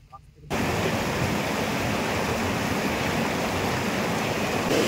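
Murti River in the Dooars, flowing clear hill-stream water heard up close as a steady broadband rush that starts abruptly after a brief quiet moment and holds evenly to the end.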